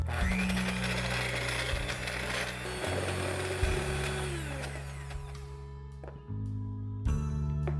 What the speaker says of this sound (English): we're going to whisk the egg whites until they form stiff peaks